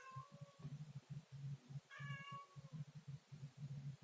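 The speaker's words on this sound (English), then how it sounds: "My cat is crying outside the door." A cat cries outside a door, a string of repeated meows in uneven bursts, clear and fairly close, with no talking over it.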